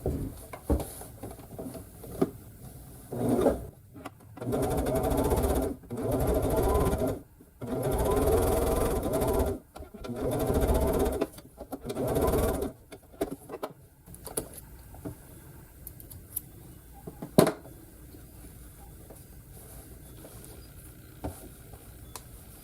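A sewing machine stitches quilt pieces in several steady whirring bursts of a few seconds each, loud and close, then stops, leaving quieter handling clicks and rustles.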